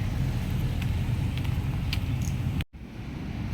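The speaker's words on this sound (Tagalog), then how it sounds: "Daming mga sasakyan mga tiyay nyo." Steady road traffic on a busy street, a continuous broadband rumble of cars passing nearby that holds level, briefly cuts out near the end, then resumes slightly quieter.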